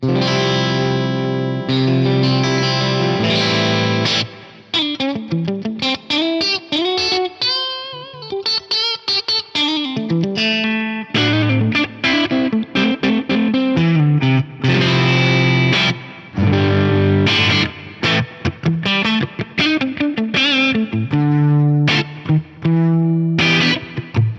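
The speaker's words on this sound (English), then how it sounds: "having this quarter note dotted eighth note delay just on there for the clean sounds" Clean electric guitar notes through an Axe-Fx III, ringing through a dotted eighth note delay, repeats echoing in a steady pattern with shimmering modulation, continuous and fairly loud.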